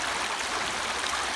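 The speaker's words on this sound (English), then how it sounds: "This section's almost like a natural weir." Water on the River Wye pours over a shallow natural weir in a steady, close, rushing wash with no voices.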